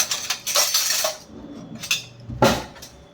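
Metal kitchen utensils clink and rattle as one is taken out, a few brief bright clatters with short pauses between them, close by with no talk.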